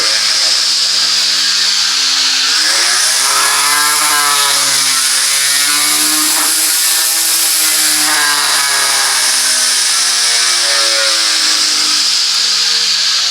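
A cordless lawn mower trimmer runs loudly and continuously, its whine rising and dipping in pitch as it revs, with no talking.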